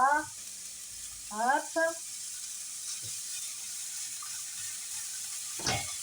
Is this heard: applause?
no